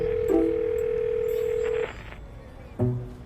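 Ringback tone of an outgoing phone call: one long steady tone lasting nearly two seconds, then a short gap and the start of another tone, heard clearly and alone.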